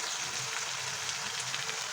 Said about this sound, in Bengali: এই যে মাছের ঝাল করছি পেঁয়াজ দিয়ে দিয়েছি কালো জিরে ফোড়ন দিয়েছি আর আলু দিয়েছি নুন হলুদ দিয়েছি ভাজছি